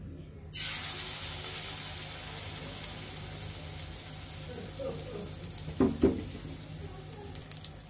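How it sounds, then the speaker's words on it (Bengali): Bitter gourd leaf fritters drop into a thin layer of hot oil, which breaks into a steady loud sizzle and keeps crackling, with a few louder pops and brief stirring noises near the end. "এখন আমরা তেলের মাঝে এগুলো বড়াগুলো একে একে দিয়ে দিব।"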